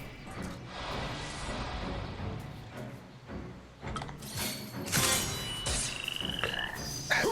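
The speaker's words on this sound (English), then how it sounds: "Hedge frogs, okay. Hedge frogs it is." Hedge frog enemies croaking in the video game Final Fantasy XIII, a few close croaks over a murky game background, followed by a sharp glassy clink and whooshing battle effects near the end.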